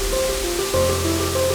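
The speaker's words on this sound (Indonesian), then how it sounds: "kita sudah dapat mendengar gemercik air yang jatuh di setiap tingkatnya" Water pours continuously down the tiers of the Guru Gemurai waterfall in Kuantan Mudik, Riau, a steady dense rush with a faint tonal hum running through it.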